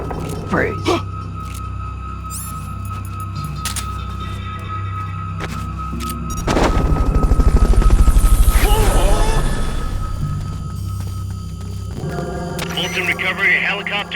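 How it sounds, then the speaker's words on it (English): The Fulton recovery helicopter in the video game Metal Gear Solid: Peace Walker rises to a loud rotor and engine swell midway, then fades. Game effects and voices play around it. "Fulton recovery helicopter is complete."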